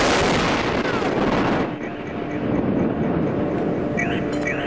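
A 1,000 lb bomb explodes in open hilly terrain, a loud continuous roar of blast and rumble filling the first second and a half before easing into a sustained, rolling boom that carries on with faint voices in the background.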